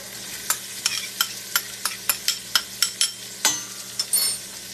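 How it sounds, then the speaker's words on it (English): Diced celery, carrot, onion and garlic sautéing in olive oil in a pan for pasta fagioli, with a steady soft sizzle broken by a dozen crisp scraping stirs of a utensil against the pan, close up and free of talk. "So we're just gonna let this saute a few minutes."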